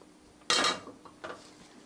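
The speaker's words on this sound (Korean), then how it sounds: "자, 팬을 얹으시고요." A frying pan set down on a stove while stir-fried champon is being cooked, making a single bright metallic clank followed by a softer second clink, close and clear in a quiet kitchen.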